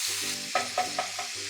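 Tomatoes cook in a pan with a soft sizzle, broken by several scraping stirs at an even pace, quiet and close with no voices.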